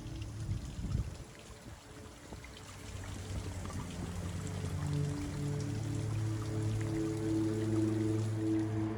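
Water trickles and runs through layered limestone ledges on a Jurassic Coast shore, a steady close wash of bubbling flow that continues throughout with no voices.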